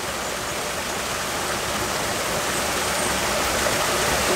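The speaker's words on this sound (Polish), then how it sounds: "bo jest tu też wodospad." A mountain waterfall in Hokkaido's Daisetsuzan National Park pours in a steady, loud, broadband rush of water that stays close and constant throughout, with no voices over it.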